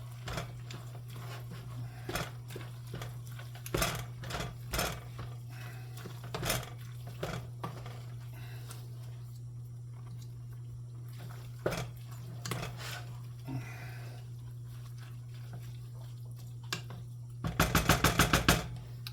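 A spoon mixing cabbage roll filling in a pot, clinking and scraping against the sides in irregular strikes over a constant low hum, ending in a quick rattling flurry of knocks.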